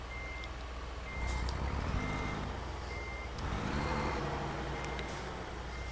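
Steady electronic reversing beeps from a Volvo semi truck backing up in American Truck Simulator, evenly spaced over a low idling diesel engine rumble, with no talking.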